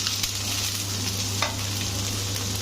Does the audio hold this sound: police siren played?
no